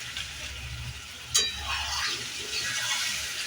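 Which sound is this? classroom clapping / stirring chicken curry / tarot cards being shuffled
stirring chicken curry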